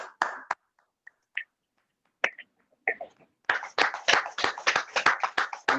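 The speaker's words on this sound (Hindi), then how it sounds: "एक बार सर के लिए जोरदार तालियाँ होनी चाहिए।" An indoor training-session audience claps, starting with a few scattered claps and then building into a burst of fairly close, steady applause for the last couple of seconds.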